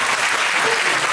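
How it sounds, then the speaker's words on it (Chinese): Audience applause at a magician's stage show in a performing arts hall, a steady dense wash of clapping from a crowd, loud and continuous throughout the brief moment. "通常会有掌声，好不好？"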